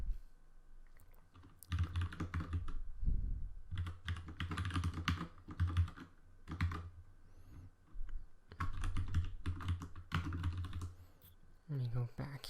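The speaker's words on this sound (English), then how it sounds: "Then I'm going to type hold on." Typing on a computer keyboard during data work, bursts of clicking keystrokes in several separate runs with short pauses between them, close and moderately loud, with some voice in the background.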